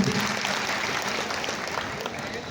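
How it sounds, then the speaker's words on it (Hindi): Audience at a Hindi poetry recital gives a loud round of applause, sustained dense clapping filling the clip, close and full. "एक बार आप सभी जोरदार तालियों से मुझे इजाज़त दें"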